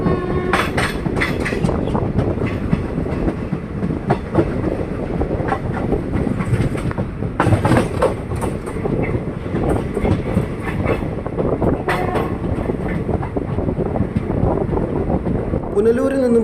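Passenger train running between Punalur and Nagercoil, steady loud rumble and wheel clatter throughout with wind buffeting and intermittent rail clicks, recorded from on board.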